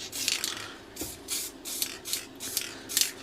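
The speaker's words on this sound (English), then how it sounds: "we can paint it with a white spray paint" White spray paint hissing from an aerosol can onto a cracked plastic caravan shower tray, in six or seven short close bursts with brief pauses between.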